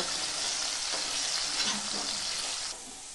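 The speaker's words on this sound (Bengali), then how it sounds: "সমস্ত সবজিগুলোকে ভেজে নেব" Mixed vegetables, including long beans, frying with a little salt for a Bengali vegetable navaratna dish, giving a steady, loud, close sizzle with some stirring that drops slightly quieter near the end.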